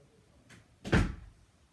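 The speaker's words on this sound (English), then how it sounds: "I'm gonna go and close my door real quick" A bedroom door swings shut with a soft first knock and then a single solid thud, close by and brief against a quiet room.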